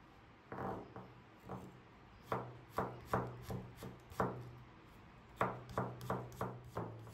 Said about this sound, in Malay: Bawang putih ni juga bolehlah dicincang sehingga halus.